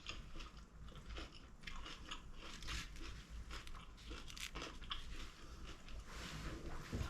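Someone bites into a cornflake-coated onion ring, giving close, faint crunching and chewing in a quiet room.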